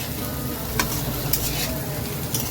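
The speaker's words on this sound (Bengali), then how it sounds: "দিয়ে এবার ভালো করে নেড়ে দেবো, নেড়ে ঢেকে দেবো" Food fries in a pan with a continuous sizzle while a utensil stirs it, a few scraping clinks standing out over the steady hiss.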